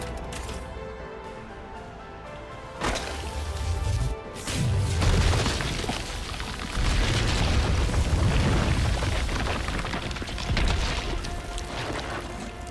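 Railgun firing in the video game Resident Evil 3 Remake, a powerful charging hum breaking into loud sustained roaring blasts and crashing booms that rise and swell over about twelve seconds.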